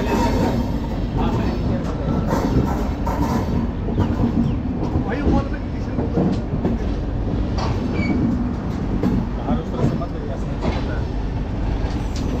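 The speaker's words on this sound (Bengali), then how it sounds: "এই ট্রেন ছাড়লো এলাহাবাদ জংশন থেকে" The 12321 Mumbai Mail passenger train runs out from Allahabad Junction (Prayagraj) with a steady rumble and rattle of wheels on rails, heard from inside the coach with faint voices under the noise.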